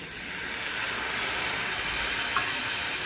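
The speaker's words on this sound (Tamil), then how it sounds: "நம்ம புளி கரைச்சி வச்சுருந்தோம்ல அதை விட்டுக்கலாம்" Tamarind water hits a hot pan while cooking a South Indian prasadam dish, giving a steady, bright hissing sizzle that swells slightly and continues without talk.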